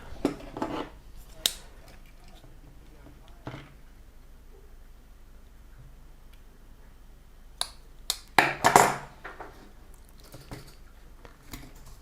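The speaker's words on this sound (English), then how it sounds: "We go ahead and cut the wire to length." Wire snipped to length for a cluster upgrade on a Volkswagen Golf Mk4, GTI, R32 or Bora/Jetta, a few sharp close clicks and cuts scattered over a quiet stretch, with a louder cluster of snips near the end.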